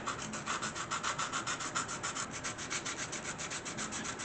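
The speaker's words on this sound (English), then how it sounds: "Let's try it with the sanding stick." A sanding stick rubs back and forth over a hard plastic Airfix F/A-18A model part in quick, regular strokes, a soft rhythmic rasping with no voices.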